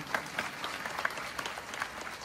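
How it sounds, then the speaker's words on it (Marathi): Audience applause fills the whole stretch, a dense steady patter of clapping with occasional sharper claps, crowd-wide and unbroken, with no voice above it. "तुम्ही टाळ्या वाजवल्या पाहिजे."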